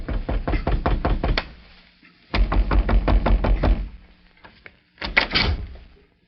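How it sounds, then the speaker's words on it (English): Knocking on a home's front door in a radio drama: three distinct bursts of rapid raps, each a cluster of several sharp knocks, close and loud with short pauses between. "a young girl in Bedford, Texas, answered a knock at the front door of her home."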